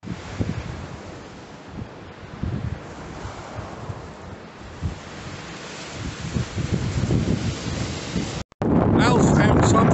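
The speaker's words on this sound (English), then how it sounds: "Whoa, it's windy." Gusty wind buffets the microphone in heavy low rumbles on the shore at Orford Ness, rising and falling, with a brief cut near the end.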